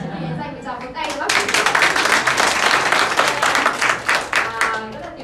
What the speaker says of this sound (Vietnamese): chúng mình hãy dành một tràng vỗ tay nữa